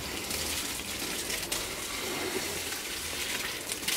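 Tap water runs in a steady, close, continuous gush while a bunch of holy basil is washed under it outdoors, the flow holding constant with no voices.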